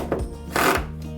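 Screw being tightened into a TV wall-mount bracket, a short grinding, ratcheting burst of tool on metal building to a louder stretch in the middle, close up with no talk.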